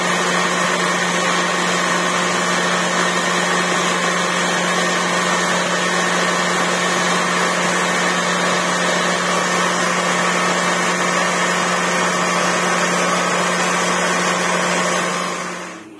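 A car's air-conditioning compressor running, a steady loud droning whir with a constant hum that holds unchanged for about fifteen seconds before cutting off.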